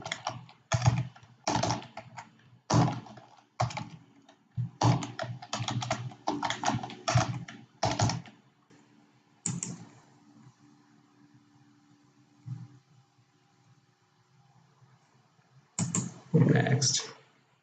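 A password is typed on a computer keyboard in quick bursts of key clicks, close and distinct, separated by short pauses with a brief stretch of near silence before a final flurry.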